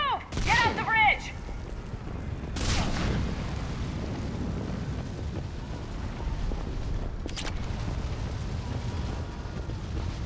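Gunfire and artillery booms in a Mass Effect 3 battle, with a couple of sharp loud blasts early and one later over a continuous rumbling roar of combat.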